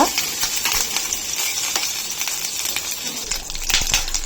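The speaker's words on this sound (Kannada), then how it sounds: "ಬಟರ್ ಹಾಕಿದಾದ್ಮೇಲೆ ಆನಿಯನ್ ಹಾಕ್ತಾ ಇದ್ದೀನಿ. ಸೊ ಆನಿಯನ್ನ ಲೈಟಾಗಿ ಫ್ರೈ ಮಾಡ್ಕೊಳ್ಳೋಣ." Onion frying in butter in a pan, a steady bright sizzle with crackling pops and occasional stirring clinks throughout, fairly close and alone.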